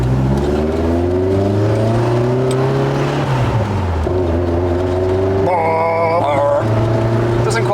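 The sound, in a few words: Lotus Esprit engine revving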